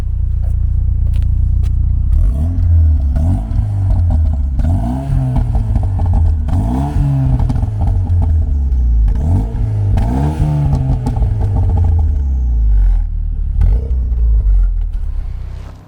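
A Renault Mégane 2 RS with a 265 hp engine revs loudly several times in a row, each rise and fall of the engine note close and strong, with no talk over it.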